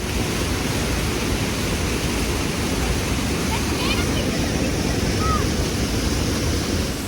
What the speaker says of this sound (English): See how the water is flowing on the steps.